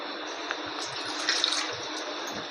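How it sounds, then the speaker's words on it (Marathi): Two small bowls of water pour into a cooking pot of simmering drumsticks, a steady close rushing gush with no talking. "त्याच्यामध्ये आपण 2 वाटी पाणी घालूया."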